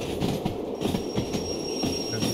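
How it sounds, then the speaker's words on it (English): A moving train in the Derail Valley simulator rumbles and clatters with rhythmic wheel knocks while its train brake is applied. A thin, steady high squeal runs on top, and there is no talk. "we are going to activate the train brake as we pass"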